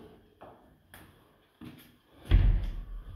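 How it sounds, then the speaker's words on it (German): A wooden door fitted with a new rubber seal swings shut in a carpentry workshop, a few soft knocks and handling sounds leading to one firm, muffled thud near the end. "Jetzt ist die Dichtung drinnen und jetzt mache ich die Türe zu."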